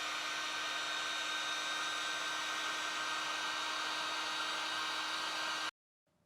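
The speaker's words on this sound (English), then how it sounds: "going to hit it with the heat gun" Heat gun blowing on an embroidered 3D puff hat, a loud steady airy whoosh with a faint whine that runs unbroken and then cuts off abruptly near the end.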